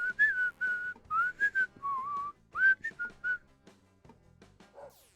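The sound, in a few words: whistling while breathing in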